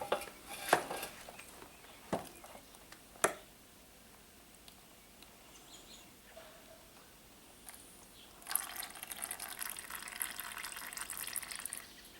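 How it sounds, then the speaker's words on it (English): Oil drips from a seized Monster motorcycle engine during an oil change: a few sharp, separate drops in a quiet space, followed by a softer, steadier trickle near the end. "So basically it's just dripping now."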